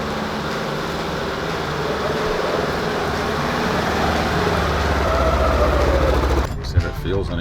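Polaris Ranger side-by-side running down the road after a clutch kit and tune install, its engine a steady, loud drone with low rumble throughout, easing off near the end.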